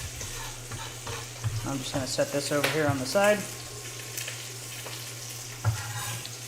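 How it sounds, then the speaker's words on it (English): Chicken pieces sizzle and spit steadily in a hot pan while being cooked for tortilla soup, a continuous frying hiss under a person talking, with occasional clinks of utensils. "Getting quite a bit of steam and sizzling from the chicken"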